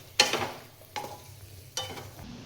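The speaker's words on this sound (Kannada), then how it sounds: "ಹಾಕಿ ನೀಟಾಗಿ ಮಿಕ್ಸ್ ಮಾಡ್ಕೊಳ್ಳಿ" A spoon stirs a chicken fry mixture for biryani in a sizzling pan, making three distinct scraping strokes spaced under a second apart over a soft background sizzle.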